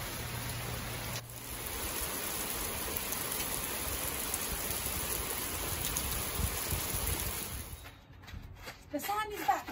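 Steady rain falling on a motorcycle trip in the USA, a dense, even hiss of drops that holds for most of the stretch before breaking up into handling noises near the end.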